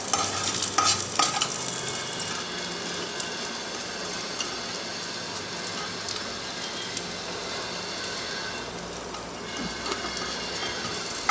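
Food sizzles steadily in a pan while a utensil scrapes and stirs through it, close and continuous with a few clinks early on.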